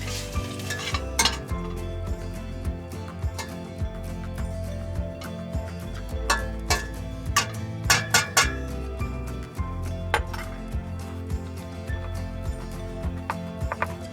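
Enchilada quinoa stirred in a pan over medium-high to high heat, a spoon scraping and clinking against the pan in irregular taps under a soft, steady sizzle.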